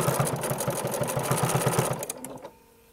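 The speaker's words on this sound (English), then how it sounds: "I just want to match up that edge and stitch right over top." A sewing machine stitches across the edge of fabric for raw edge binding, a rapid, even mechanical chatter up close that slows and stops near the end.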